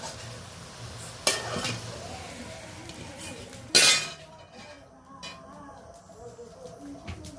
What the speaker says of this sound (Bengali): একটা ছোট পাত্রে আমি ঢেলে নিচ্ছি।